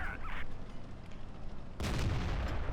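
A T-34-85 tank cannon firing in the World of Tanks Blitz video game: one loud, booming shot near the end cuts through a dense, steady game-sound backdrop.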